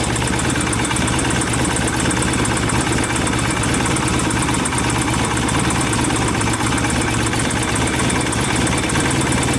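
An old motorcycle with points ignition idles steadily at close range, a loud continuous rumble with an even, unchanging rhythm.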